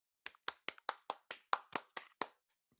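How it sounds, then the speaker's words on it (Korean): A small audience at a talk show claps for a guest, about ten separate, evenly spaced hand claps, close and crisp, with silence between each. "박수 부탁드릴게요"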